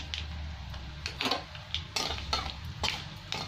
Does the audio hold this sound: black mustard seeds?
yes